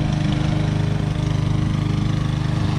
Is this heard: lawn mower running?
yes